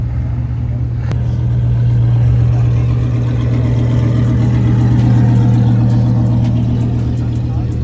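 A Corvette C8 sits with its engine running at a Los Angeles car meet, putting out a loud, continuous low rumble that stays close and steady throughout, without distinct revs.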